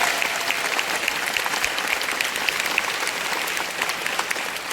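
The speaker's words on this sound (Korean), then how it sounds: "박수 치세요." Audience applause during a Korean motivational leadership speech, a dense, steady wash of many hands clapping at moderate volume, sustained evenly for about five seconds with no voices over it.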